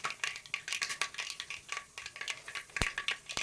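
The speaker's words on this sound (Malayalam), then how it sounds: "നമ്മുടെ കടുക് നല്ല പൊട്ടി വരട്ടെ കണ്ടോ നല്ല രസമില്ലേ പൊട്ടുന്നൊക്കെ കാണാൻ" Rapid, irregular crackling pops of mustard seeds bursting in hot oil, dense and close, with one sharper snap near the end.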